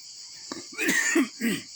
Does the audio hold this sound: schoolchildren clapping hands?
no